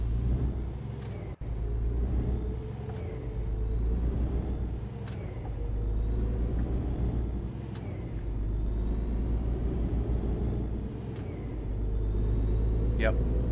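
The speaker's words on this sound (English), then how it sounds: "Put her in gear. We're going to pull away." A heavy truck in the On The Road truck simulator game pulls away, its steady low engine rumble holding throughout with a brief air-brake release hiss near the start; no one speaks over it.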